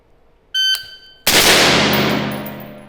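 Rifle fired during a shooting drill: after a brief electronic timer beep, one sharp, loud close-range gunshot cracks and its echo decays over the following second and a half.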